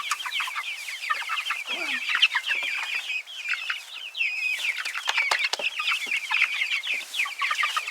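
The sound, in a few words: chicks clucking in their run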